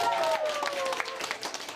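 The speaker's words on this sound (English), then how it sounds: "people applaud as the amateur photographer receives the first pair of glasses" People applaud at a mobile clinic, a moderate patter of clapping from a small group mixed with voices talking and a brief whistle-like tone at the start.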